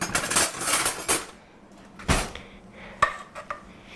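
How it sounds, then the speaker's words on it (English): A metal utensil clinks and scrapes against a pot while tomatoes and chicken for an Italian chicken dish are stirred, with a busy burst of clatter at first, then a sharp knock and a few isolated taps, close and fairly loud. "Now I'm gonna just get another utensil to stir it up."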